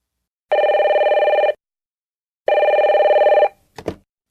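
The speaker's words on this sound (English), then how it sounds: "John, why didn't you pick up the phone? I kept calling you" A landline telephone bell rings in two loud one-second bursts separated by a pause, then a brief click as the receiver is picked up.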